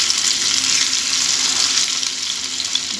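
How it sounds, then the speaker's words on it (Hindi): Vetki (Asian sea bass) fish fillet sizzling in a hot oil pan as the second side fries, a loud, steady, hissing crackle close up, without talk. "जब तक दूसरा साइड फ्राई हो रहा है"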